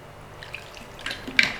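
A couple of tablespoons of water poured into a beef marinade of oil and baking soda, heard as a brief, soft splash and trickle with small drips, close and quiet, rising in a short burst near the end.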